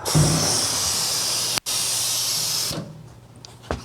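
Air compressor hose hisses loudly and steadily while seating a tire bead on a 1968 Karmann Ghia, with a brief cutoff midway before the flow stops and fades to a quiet workshop.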